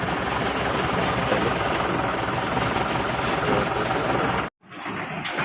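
An extra engine on a vehicle runs with a dense, steady droning rumble and fine mechanical rattle, loud and close, cutting out abruptly near the end before the sound partly returns.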